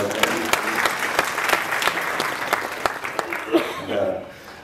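Crowd applause at a Tamil film audio launch, dense clapping with sharp individual claps standing out, fading near the end as a voice begins to speak.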